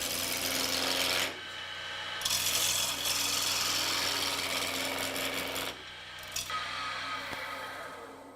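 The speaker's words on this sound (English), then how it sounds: "A real sharp tool should not tear out the end grain even on a square piece of softwood." Continuous rasping, scraping bursts of a sharp chisel cutting softwood end grain, with brief pauses between passes, close and loud against a low steady hum.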